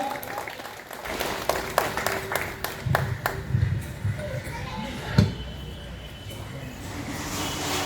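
Onlookers at a Hanuman Jayanti celebration in Varanasi clap sharply and unevenly to welcome a temple mahant, the individual claps distinct, with a thud and an outdoor background mixed in.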